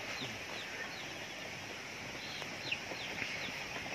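Chicks on a farm, transported by motorbike, peep and cluck faintly and steadily against a constant hiss of background noise, with a few slightly louder chirps.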